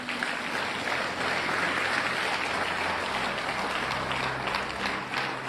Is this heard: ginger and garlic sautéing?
no